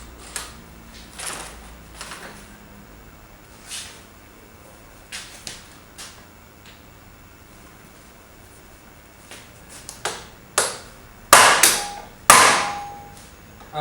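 A hammer strikes a motorcycle chain link to peen a rivet during a chain and sprocket kit change, giving sharp metallic taps. They start sparse and light, then grow into louder, heavier blows near the end, with no talking.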